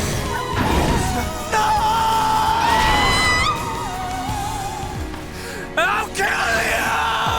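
A character in a Xenoblade Chronicles cutscene lets out loud anguished cries and yells amid crashing impacts and swelling dramatic music, the screams rising sharply and then breaking off.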